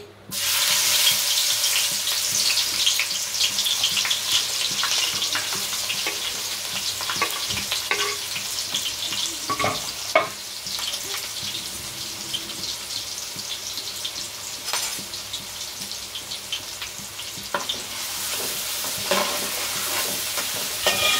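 Tempering spices spluttering in hot oil for a fish curry made with rohu, a loud continuous sizzle with crackling pops and occasional stirring scrapes, close by.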